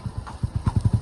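A horse's hooves clip-clop on the ground as it approaches, a quick steady rhythm of soft thuds growing slightly louder and closer, with no talk.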